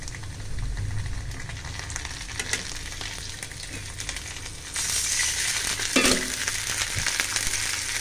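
Onion fries in a pan for Malabar spinach, a steady close sizzle with occasional clinks and scrapes of stirring, the hiss growing brighter and louder partway through.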